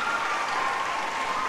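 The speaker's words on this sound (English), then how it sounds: "Let's give a good round of applause for the Jose Limon Dance Company." An audience applauds the José Limón Dance Company in a performance setting, a dense, even wash of many hands clapping at once, loud and sustained, without speech.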